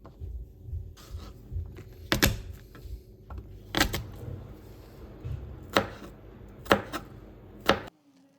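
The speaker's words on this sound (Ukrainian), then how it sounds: "Нарізаємо, теж стараємося нарізати такими квадратиками." A knife chops onion and pepper into small squares on a board, giving a handful of sharp, separate knocks spaced irregularly and heard up close with no talk.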